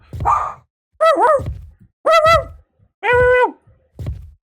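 A pet dog barks in five sharp, loud, close bursts with short gaps between them, some ending in a yipping, whining tone.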